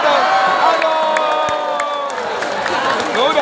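A crowd at an Islamic sermon cheers and claps in a noisy burst of mixed voices, whoops and shouting, loud and close throughout.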